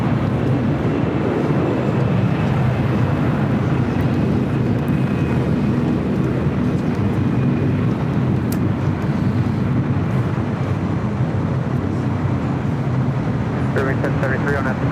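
Steady, loud jet engine roar from an airliner at LAX airport on a flight to Auckland, a constant broadband drone that holds throughout while people talk over it.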